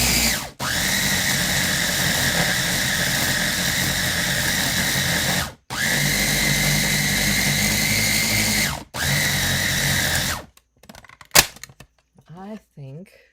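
A kitchen blender runs loud and close while making raw cheesecake, whirring in three long continuous bursts with brief pauses between them, then stopping before a few scattered knocks and clinks.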